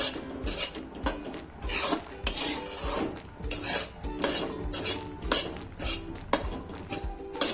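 Grated coconut is dry-roasted over a low flame and stirred in a pan for coconut ladoos, giving a steady run of close scraping and clinking of a spoon against metal, with repeated rhythmic strokes and no voices.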